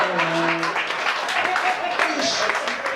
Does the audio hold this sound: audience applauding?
yes